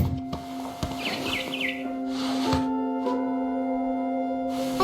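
A barn swallow chirps outside a window in the game What Remains of Edith Finch. It gives a quick run of a few short, high chirps over a steady, sustained musical drone, followed by soft scattered knocks.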